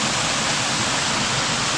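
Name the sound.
man-made concrete waterfall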